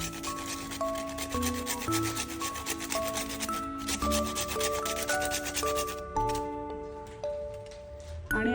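Nutmeg is grated into a jaggery ladoo mixture, making a steady close rasping rub that runs throughout beneath background music.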